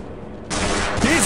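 Soldiers open fire in Half-Life, a sudden dense burst of automatic gunfire that bursts in and stays loud, with a voice briefly shouting over the shots.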